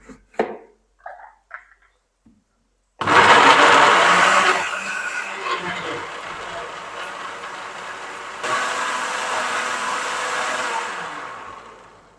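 A kitchen blender grinds tomatoes and green chillies with a little water into a paste, a loud steady whirring roar that runs several seconds, briefly dips, then surges again before cutting off, after a few quiet clinks.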